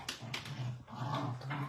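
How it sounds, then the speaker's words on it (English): Dogs scuffle indoors with low, rumbling growls and short whiny yelps, close by and fairly quiet, carrying on for under two seconds with no talking. "I'm sorry about my dogs."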